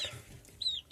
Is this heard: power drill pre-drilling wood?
no